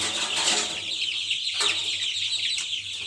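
Young white roosters and brown hens crowd a feed bucket, clucking and calling repeatedly up close, with some wing flutter.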